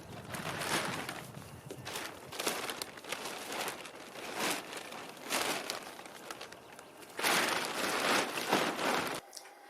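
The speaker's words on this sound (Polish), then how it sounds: "teraz opuszczę folię" Plastic garden sheeting crinkles and rustles as it is lowered over a permaculture carrot bed outdoors, coming in repeated bursts of crackling with brief quieter gaps and faint birdsong behind.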